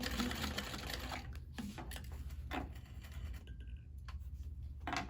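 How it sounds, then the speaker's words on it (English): A sewing machine runs in short back-and-forth bursts of rapid, close mechanical needle clatter while back-stitching a fabric scrunchie, with brief pauses between runs and no talk. "we'll get another back stitch, hold it in place"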